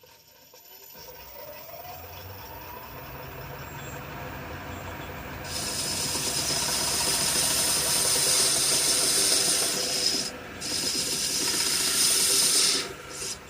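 A machining cut on a boiler part for a model Britannia locomotive produces a steady, harsh rasping grind that grows louder partway through, then dips briefly twice near the end before stopping.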